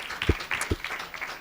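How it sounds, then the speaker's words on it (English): A small audience at a university open day claps briefly at the close of the event, giving a short light patter of scattered hands with a couple of sharper, louder claps standing out near the front. "we can give a round of applause to everyone"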